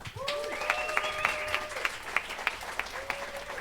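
An audience applauds a performer at a new musical theatre showcase finale, steady clapping with sharp individual claps and a voice rising briefly over it.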